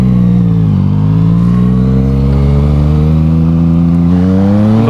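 A Yamaha MT-09 motorcycle engine revs loud and close, a steady harmonic drone that dips briefly, then climbs in pitch as the throttle opens, with no talk over it.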